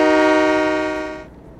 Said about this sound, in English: Oh, that sounds like my old Trains 2017 horn.